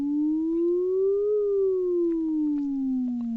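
A single pure electronic synth tone slowly glides up in pitch and then back down, its pitch modulated by a sine-wave LFO, a smooth steady sweep heard alone with nothing else around it.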